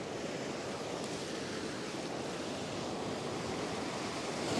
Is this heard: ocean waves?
yes